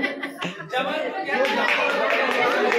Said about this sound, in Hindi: ये तालियों की गड़गड़ाहट